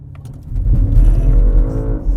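A 2025 BMW M5 Touring launching under launch control, its engine swelling quickly into a loud, deep roar that holds as the car surges forward from close by.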